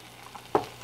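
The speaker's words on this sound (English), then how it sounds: "it's just sizzling away" A brief, quiet sizzle of food frying in a Granite Tuff pan, with a single soft crackle partway through.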